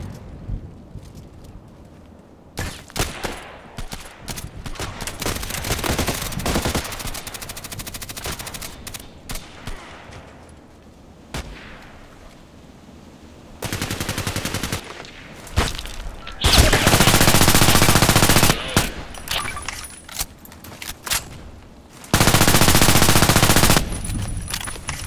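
Gunfire in the Contract Wars video game, with scattered single shots and bursts of automatic fire, including long, loud, sustained volleys.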